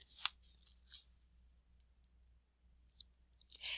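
Soft, sharp computer mouse clicks on a search button, a few isolated taps spread through a very quiet room.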